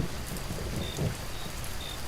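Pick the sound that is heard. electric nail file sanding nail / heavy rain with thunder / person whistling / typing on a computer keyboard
heavy rain with thunder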